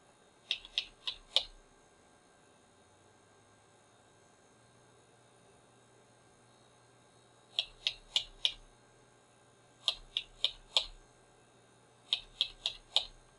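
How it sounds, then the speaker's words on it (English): Repeated taps on a computer keyboard's delete key come in quick clusters of three or four crisp clicks, separated by pauses, faint and close against a low background hum. "we tap the delete key a few times, and that will get us into the BIOS"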